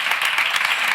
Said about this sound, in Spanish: un aplauso a la compañera que ha estado exponiendo